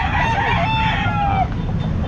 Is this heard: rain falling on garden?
no